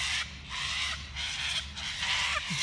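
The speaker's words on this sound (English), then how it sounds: "Look at the size of these birds, the yellow hawks." Large birds called yellow hawks give loud, harsh, repeated calls, several raucous cries in quick succession from close by outdoors.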